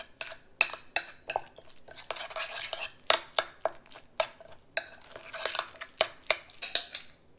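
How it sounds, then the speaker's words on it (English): Fish taco mix with pickled peppers and salt being stirred in a bowl, a utensil clinking and scraping against the sides in a quick, steady series of close, sharp taps. "I'm gonna give her a mix up here."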